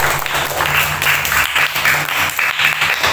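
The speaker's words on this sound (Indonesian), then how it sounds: "Tepuk tangan buat kalian semua." A group of students in a classroom applauds in steady, dense clapping that keeps going throughout at an even volume.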